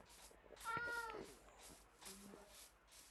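A quiet Minecraft cat meows twice in the video game, a longer meow followed by a shorter one, with soft background noise between.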